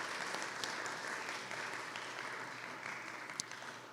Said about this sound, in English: let's give everybody a round of applause for donating